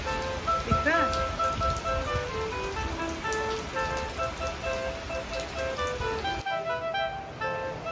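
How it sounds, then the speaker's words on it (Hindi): Heavy rain pouring down outdoors on a morning, a dense steady hiss of drops on surfaces that continues throughout at close range. "देख लीजिए फ्रेंड्स कितनी तेज़ वाली बारिश शुरू हो गई अभी"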